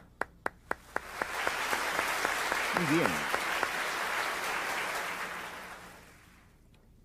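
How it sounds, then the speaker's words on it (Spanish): Applause breaks out in a Baptist church congregation, starting with a few sharp, isolated claps before swelling into a sustained, fairly close wave that fades out; a voice speaks briefly over it. "Denle un aplauso."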